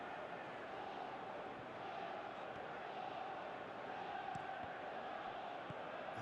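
Football video game stadium crowd, a steady distant murmur and roar in the background with no distinct cheers.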